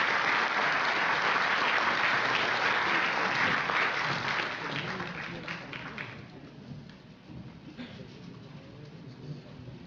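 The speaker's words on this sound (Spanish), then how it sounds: "Un fuerte aplauso nuevamente." An audience applauds at a university scientific-merit award ceremony, a full, sustained round of clapping that gradually thins and fades after several seconds.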